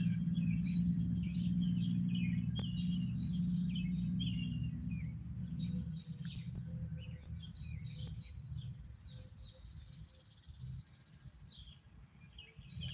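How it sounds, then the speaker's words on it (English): Birds chirp and tweet outdoors in short scattered calls, moderately distant, over a steady low rumble of background noise. "You hear the birds?"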